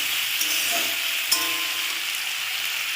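Sliced ridge gourd frying in a pan, a close, even sizzle that continues throughout with a few light clinks of a utensil stirring.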